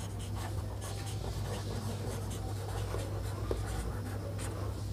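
Pen or chalk scratches out a trigonometry calculation for a class 10 lesson, a faint steady scratching over a constant low hum, with no talk.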